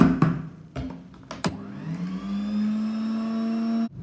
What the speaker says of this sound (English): And I'm just going to lightly froth those.